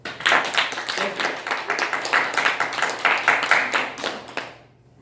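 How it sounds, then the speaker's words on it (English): Audience applause at a Toastmasters public speaking meeting: a dense, steady round of hand clapping for about four and a half seconds before it trails off into quiet. "Another round of applause"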